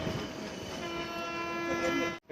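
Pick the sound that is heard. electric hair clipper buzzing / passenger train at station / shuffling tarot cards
passenger train at station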